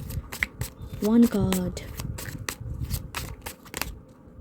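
Tarot cards riffle and slap in a brief flurry of papery shuffling, followed by a card drawn from the pile, close and fairly soft, with a voice talking over part of it.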